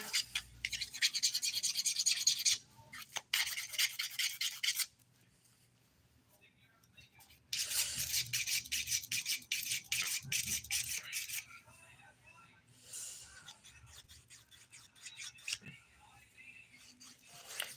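A nail file's 180 grit side rubs back and forth across a fingernail, giving close, soft rasping strokes in bursts with pauses, while a person speaks quietly.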